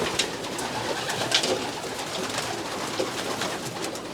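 Pigeons coo softly and repeatedly at close range, with low murmuring calls over a faint background of rustling and ambient noise.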